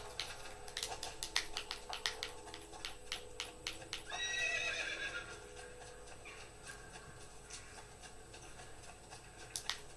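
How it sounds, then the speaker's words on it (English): Horse whinnying and hoof clip-clop in the video game Assassin's Creed II, with a stretch of neighing partway through over repeated sharp hoof and movement clicks, moderately loud with game ambience. "Let's get off the horse."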